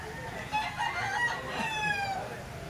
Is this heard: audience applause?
no